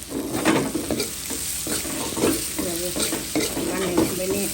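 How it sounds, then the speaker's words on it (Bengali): Papaya pieces sizzle in oil while a spatula stirs them around the pan, giving repeated scraping strokes over a constant frying hiss, close and clear. "ভাজা ভাজা হচ্ছে, ভাজা ভাজা করলে ভালো লাগে"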